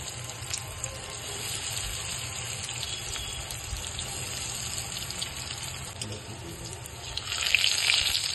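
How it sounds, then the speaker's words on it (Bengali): Vegetable chops deep-frying in refined oil give a steady, even sizzle and bubbling hiss that holds for the whole stretch and swells slightly near the end, with no talk over it. "রিফাইন তেল দিয়েছিলাম, এটাকে ভেজে নিচ্ছি।"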